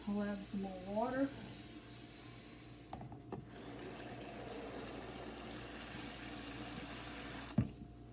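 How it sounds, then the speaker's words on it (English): Water pours steadily into a pressure cooker holding ground meat and celery, a faint continuous rushing and trickling that follows a brief spoken remark at the start, with a few clinks and a sharp knock near the end. "Now I'll add some more water"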